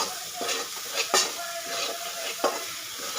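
Garam masala frying in hot oil in a pan, a soft steady sizzle with a few scraping strokes of a spoon stirring it, close and fairly quiet with no talking.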